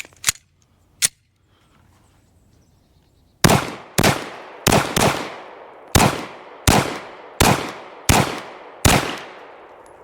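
Pistol shots at an outdoor range while testing a Gowutar GP-9 RMR red dot sight: two isolated shots, a pause, then a steady string of about nine loud, sharp cracks with short ringing tails.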